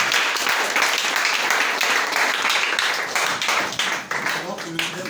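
A church congregation breaks into loud, dense applause, many hands clapping together continuously and close, with a voice rising faintly near the end.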